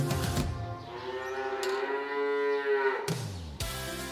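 Beef cattle give a long, drawn-out moo that swells and falls, loud and close, bracketed by bursts of music at the start and end, with no talking.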